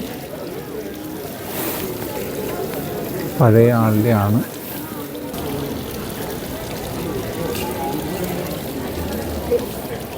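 Fountains splash beside Frankfurt Cathedral, a steady wash of falling water running throughout, with a person speaking briefly over it partway through.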